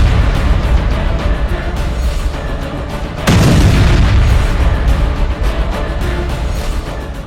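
Deep booming blasts from missile explosions during a Houthi rocket attack rumble continuously, with a heavier boom and surge around the middle, loud and distant-sounding with no speech.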